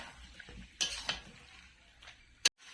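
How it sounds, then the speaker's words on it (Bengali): Meat with potato and papaya is sautéed in spices in a pot, soft sizzling broken by a few sharp scrapes and clinks of a spoon against the metal, the last one loud and abrupt. "মশলার সঙ্গে আলু আর পেঁপেটাকে কিছুক্ষণ কষিয়ে নেব"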